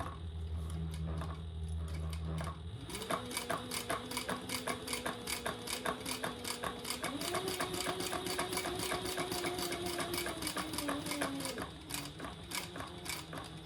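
Sewing machine stitching a shoulder bag, a rapid rhythmic mechanical chatter that runs continuously at close range, its pitch rising and holding as the speed changes, then easing near the end.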